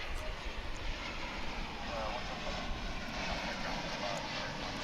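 Airbus A380 engines roar steadily at DFW International Airport, a loud, continuous broadband rumble and whoosh that lasts the whole time, with a voice talking faintly underneath.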